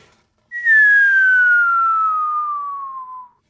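A smooth whistle with no tube glides steadily downward in pitch for about three seconds, loud and alone, with no breaks along the way.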